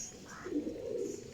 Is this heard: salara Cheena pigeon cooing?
yes